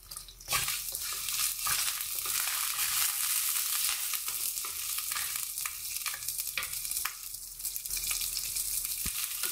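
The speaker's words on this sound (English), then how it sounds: "I'll add the methi and the chana dal here. I'm going to fry this along with the red chili." Methi seeds, chana dal and dried red chilies sizzle steadily as they fry in a pan for a sambar, with occasional stirring scrapes over a continuous close crackle.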